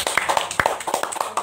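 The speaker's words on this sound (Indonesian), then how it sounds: "Ya, boleh tepuk tangan." Scattered hand clapping from a small audience at a business sharing session, a few sparse, uneven claps at moderate distance, fairly quiet.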